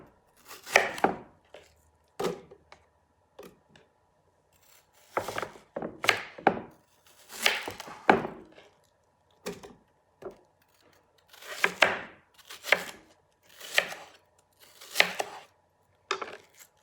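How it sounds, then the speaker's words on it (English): Food processor blades chopping onion pieces in short, loud, irregular bursts of whirring and clattering, each pulse lasting about a second and separated by brief silences, with no talking. "I'm gonna do it quickly in the food processor and just cut these onions in pieces."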